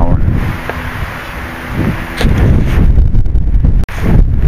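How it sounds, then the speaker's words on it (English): Strong wind buffeting the microphone on a fishing bank, a steady rough roar with gusts that swell louder in the second half, close and constant. "I don't know how much more of this wind I can take."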